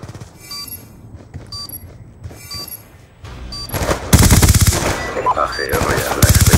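Rapid bursts of Skorpion EV submachine gun fire in Black Ops 2 multiplayer on PS3, loud and close, starting sparse then becoming dense continuous automatic fire mixed with other battle noise.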